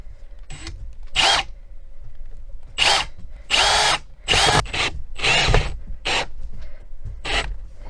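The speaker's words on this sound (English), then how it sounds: "gonna do the final fastening of the headboard to the bed frame" A power drill drives fasteners through a wooden headboard into a bed frame in a series of loud, close bursts of whirring, each lasting under a second with brief pauses between, no talking.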